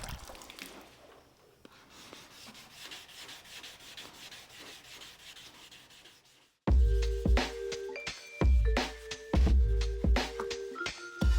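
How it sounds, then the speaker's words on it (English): Hand sanding on a car body pillar coated with guide coat gives a continuous rubbing scrape, followed by louder, irregular bursts of sanding strokes and knocks close by. "This pillar is completely sanded down, prepped out."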